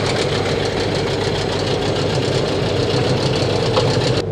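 A Chinese 9.8 hp outboard boat motor runs steadily up close while its hand pull starter rings and rattles, a loud, even mechanical drone with metallic chatter throughout.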